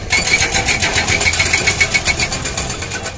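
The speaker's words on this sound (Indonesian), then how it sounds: "Wow, ada ekskavator bobok beton." Toy excavator fitted with a concrete breaker runs with a steady mechanical whir and fast repetitive tapping, like a small motor driving a hammer, continuous and close throughout.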